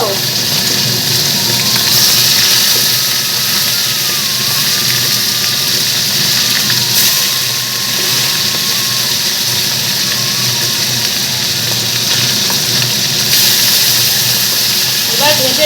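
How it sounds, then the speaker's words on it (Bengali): Yogurt-marinated chicken pieces fry in hot oil in a kadai, giving a constant loud sizzle and crackle that holds steady throughout, with a few small pops near the end. "এক এক করে তেলের মধ্যে আমি দিয়ে ভাজবো"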